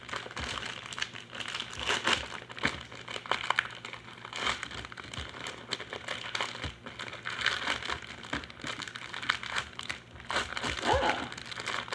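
Plastic wrapping on a Viennetta ice cream dessert crinkles and rustles continuously up close, with irregular crackles throughout.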